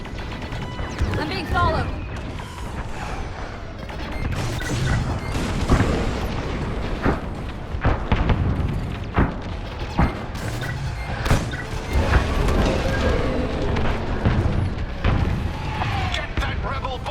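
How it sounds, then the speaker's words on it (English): Enemy blaster fire striking a starfighter in Star Wars: Squadrons: a dense, loud barrage of crashing impacts and metallic bangs over engine roar, while a pilot's voice speaks briefly. "Taking enemy fire"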